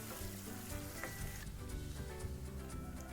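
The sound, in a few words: onions frying in a pan for mango girmit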